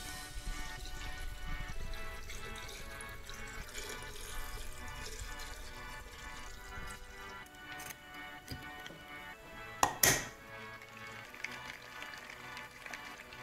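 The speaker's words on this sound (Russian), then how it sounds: "теперь заливаем" Liquid pours quietly into a container for homemade Baileys-style cream liqueur made with candies, a soft continuous trickle with faint ticks and one sharper clink near the end.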